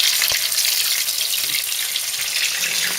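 Pupusas frying on high heat in smoking-hot olive oil, a dense continuous sizzle close up with small pops and crackles, no talking.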